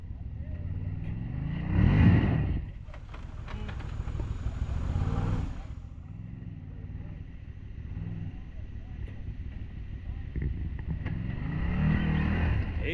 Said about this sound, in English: You're gonna have to give it a little gas and bump over it.